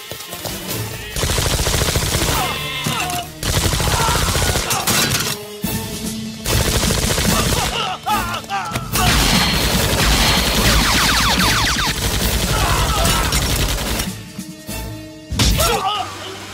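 Gunfire erupts during an attack in a Telugu action film, dense rapid bursts of shots with cracks and impacts filling the scene, loud and sustained with only short pauses.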